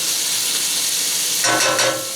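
Thyme cooks in a pot for yellow split pea and buttercup squash soup, giving a steady hissing sizzle that swells briefly with stirring near the end, close and unaccompanied by speech.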